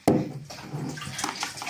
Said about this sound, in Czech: Proč to naléváš do Nutelly?